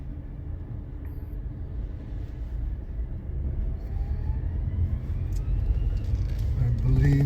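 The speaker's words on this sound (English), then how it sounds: "So here we got automatic side loader," Automatic side loader garbage truck, a right-hand-drive Mack with a Labrie body, driving along with a steady low engine rumble and road noise that builds slightly, heard from a following vehicle.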